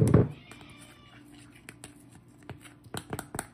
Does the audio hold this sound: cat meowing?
yes